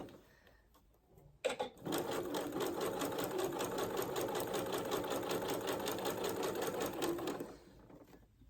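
A sewing machine stitching ruffles with elastic thread, running in a fast, steady mechanical chatter for several seconds after a brief start, close and fairly quiet, then stopping.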